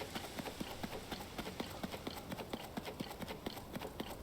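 Horse hooves clip-clopping in the video game Zelda: Tears of the Kingdom, a steady galloping rhythm of crisp repeated hoofbeats over a constant wash of wind and ambient noise, fairly close and even throughout.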